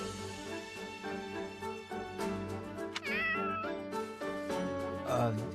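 A cat meows repeatedly in the video game Fire Emblem Three Hopes, several close, wavering mews and a drawn-out yowl rising over a steady background music score.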